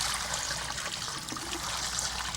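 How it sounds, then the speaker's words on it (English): Water trickling and pouring steadily into a kettle, a soft continuous liquid rush at close range with no voices. "Continue filling the kettle with water."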